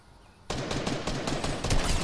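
Rapid automatic gunfire in the Fortnite video game starts suddenly after a quiet moment and continues as a dense, loud burst of shots to the end.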